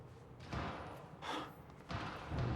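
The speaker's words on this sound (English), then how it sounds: "Oh, it's gunshots." Gunfire in the video game Quantum Break: four dull, muffled bangs in uneven succession, each a short broadband thump like a door slamming, heard from some distance without talk.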